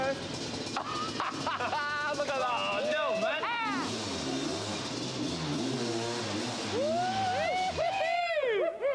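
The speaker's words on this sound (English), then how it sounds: "Do I hear the sound of engines?" Stunt quad bike engine revving and swooping in pitch as it rides in, rising and falling in sharp bursts at close range, while excited voices shout over it.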